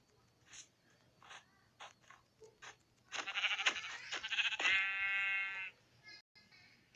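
Sheep bleat in Minecraft, a long wavering cry after softer clicks and sounds, with faint background hum.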